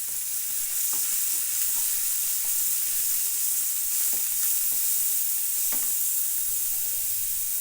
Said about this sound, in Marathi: ह्या साईडला कांदा टाकते आणि मस्तपैकी एकदम याला फ्राय करायचं